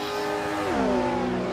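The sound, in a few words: Ferrari race car engine revving in a racing video game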